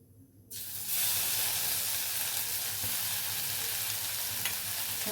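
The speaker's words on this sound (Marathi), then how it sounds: "तेल आपलं छान गरम झालेलं आहे तर त्याच्यात आपण आता जी मिरची मी वाटून घेतली होती ती टाकून घेऊया" Ground chili paste hits about one and a half ladles of hot oil, a quiet pan suddenly bursting into a loud, steady, hissing sizzle that holds without a break.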